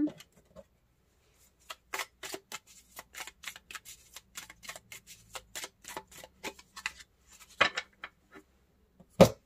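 Tarot cards drawn and handled on a table: a quick run of light, dry flicks and taps, close and quiet, with a couple of sharper clicks near the end and no talking.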